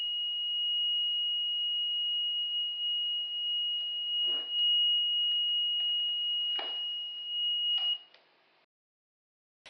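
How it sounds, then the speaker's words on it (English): An IC3 ion chamber survey meter sounds a steady, high-pitched electronic alarm tone, triggered by a partially open beta window, continuously for about eight seconds, with a few soft clicks and handling noises, then cuts off into silence. "the IC3 will also alarm if the beta window is only partially open"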